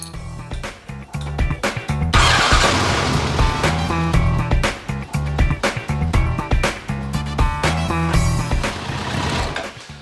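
A 1990 Kawasaki ZZR1100 motorcycle with a misfiring cylinder starts and runs loud and close, a rough, uneven engine roar that rises and stays strong, with no voices.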